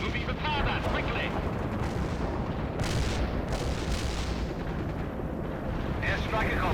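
Airstrike explosions in the war strategy game World in Conflict, a dense, continuous roar of booming blasts and rumbling detonations that stays loud throughout, with game radio voices over it.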